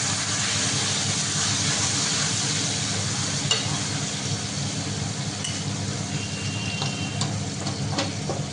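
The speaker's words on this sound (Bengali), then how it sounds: "চলুন মাংসটা এদিকে বসিয়ে দিয়েছি, একদম এখানে মাংসটা কষানো হচ্ছে।" Meat stir-fries in a pan with a steady, close sizzle that continues unbroken, with a few faint scrapes and clinks of stirring along the way.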